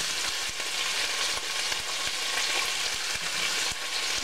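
Beef stir-fried in a pan with snow peas, sizzling steadily and loudly throughout, with repeated scrapes and knocks as the meat is stirred and tossed.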